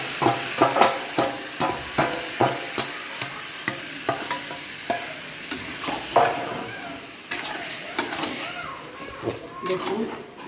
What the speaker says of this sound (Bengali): দেখুন কষানো হচ্ছে, মাংস কষানো হয়ে গেছে।